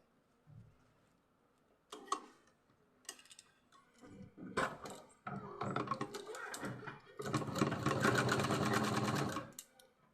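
A sewing machine stitches a school skirt in several close bursts, short runs at first and then a longer, steady whirring rattle, with quiet pauses in between.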